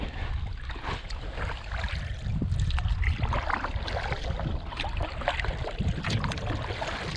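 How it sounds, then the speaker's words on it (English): A boat is paddled out of a shallow creek about eight inches deep, with close splashing, trickling and gurgling water and scraping strokes repeating at an uneven pace for several seconds. "hopefully deep enough to paddle my way out"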